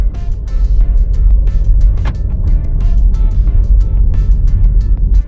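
Skoda Superb 1.6 TDI DSG with a tuned ECU pulling away from a stop: a loud, close diesel engine note with a low rumble and steady road noise, plus faint clicks and rattles inside the car.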